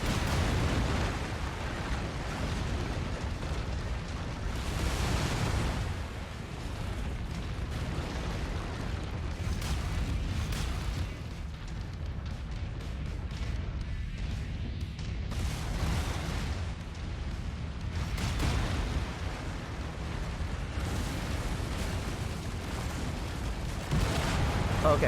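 Fuel tank explodes in the MechWarrior 5: Mercenaries mech combat game, loud sustained booming blasts and rumbling fire that surge and fade in waves over continuous battle noise.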